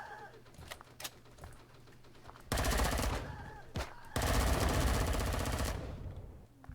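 Sustained automatic gunfire in the sci-fi survival game Empyrion: a long, loud rapid-fire burst, a brief pause with a single shot, then another extended stream of shots that fades out.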